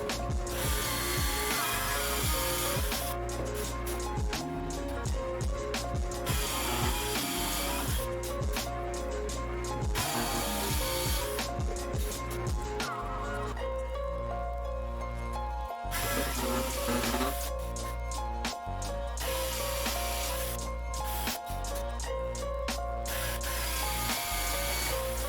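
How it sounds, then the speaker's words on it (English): Continuous grinding, whirring noise of a power drill boring into wood, rough and mechanical with shifting pitch and short breaks between holes. "let's drill some holes."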